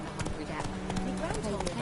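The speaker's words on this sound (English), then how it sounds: "Run, Roach" The horse Roach galloping in the video game The Witcher 3, fast rhythmic hoof clip-clops close by over a short stretch, with a voice speaking over the hoofbeats.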